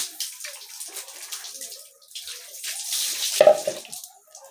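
Water runs from a tap in uneven splashing bursts, close and fairly loud, pausing briefly before the flow resumes with a burbling gush.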